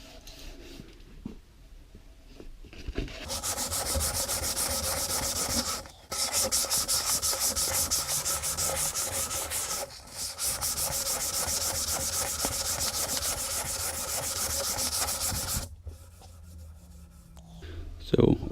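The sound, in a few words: sanding paper on a wooden guitar neck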